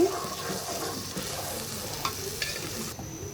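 Ginger paste, salt and spices being sautéed in a pan as a roast masala, with a continuous close sizzle and the scrape of stirring, plus a couple of faint clinks.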